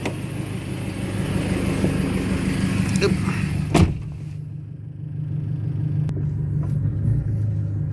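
A car drives along the road toward a car wash, its engine a steady low rumble inside the cabin, broken by a sharp knock or thud partway through, with voices talking faintly.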